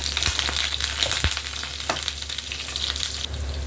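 Curry leaves and green chillies sputter and crackle in hot oil as a tempering for fried dal, a steady close sizzle with a few sharp pops and faint stirring scrapes, no voices.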